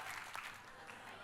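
Church congregation clapping together in steady, dense applause that fills the room for the whole moment, with no single voice standing out.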